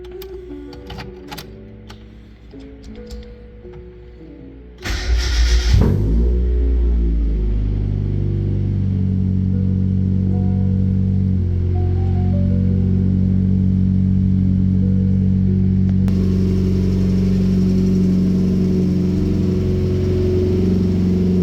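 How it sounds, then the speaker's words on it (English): Some clicking and cranking gives way to a small Mazda Miata engine catching and settling into a steady, loud idle up close. "let's go ahead and fire this thing up and make sure that all of our hard work paid off"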